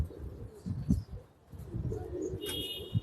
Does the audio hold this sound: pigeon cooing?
yes